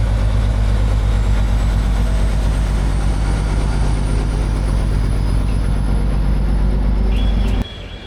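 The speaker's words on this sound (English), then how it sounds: "all the shunting is handled by a class 721 diesel shunter, a familiar sight on Slovakia" A Slovak class 721 diesel shunter idles during train shunting at Poprad at night, a loud, heavy, continuous low engine rumble that drops suddenly near the end, no voices.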